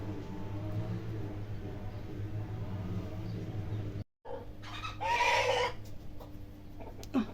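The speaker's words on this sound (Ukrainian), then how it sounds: "Під вікном виспівав мені серенади півень." A rooster crows once, loud and fairly close under a window, after a brief pause, over a steady low mechanical hum.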